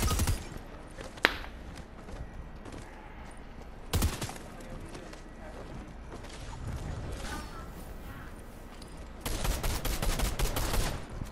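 Gunfire in the video game Fortnite, bursts of shots with sharp single cracks early and a dense rapid volley near the end, under a low background mix.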